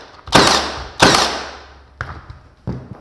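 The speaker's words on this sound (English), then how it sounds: "hooked up my pneumatic gun here, and on this one you can just maybe put some nails in it" An 18 gauge Milwaukee Gen 2 pneumatic brad nailer fires nails into wood: four sharp, loud bangs, two close together and then two more spaced apart, each with a short airy tail, and no voices.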